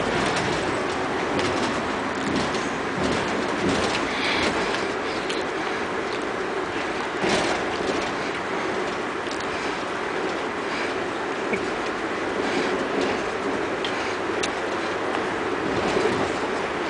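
Steady rumble and clatter of a train running on rails, continuous and loud throughout, with faint higher chirps over it.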